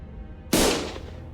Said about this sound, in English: Gunfire filled my ears.